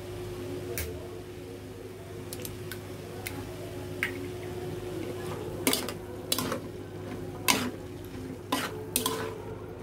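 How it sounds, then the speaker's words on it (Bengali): Vegetables and eggs being stir-fried for fried rice in a pan, with sharp metal utensil scrapes and clinks recurring over a steady low kitchen hum, close and moderately loud. "আমরা এখন ভালোভাবে এভাবে ভাজা ভাজা করে নিব সবজিগুলো।"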